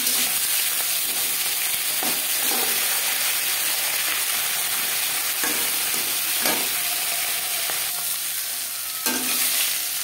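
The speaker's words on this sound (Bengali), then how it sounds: "ভাজা হয়ে গেলে অপর সাইড উল্টে দেব।" A fish head fries in refined oil in a kadai with a steady, close, hissing sizzle. A handful of brief scraping or knocking touches sound from a utensil, and no one speaks.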